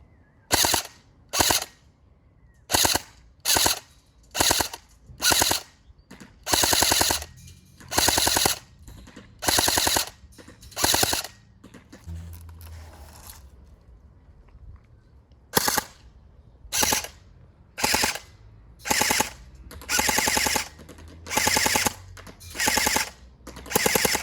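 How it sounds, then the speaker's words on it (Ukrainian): An AKS-74 SA-J72 CORE airsoft rifle firing 0.25 g BBs outdoors at range, loud in a rapid series of short, evenly spaced bursts, with a brief pause partway through before the bursts resume. "Стрільба."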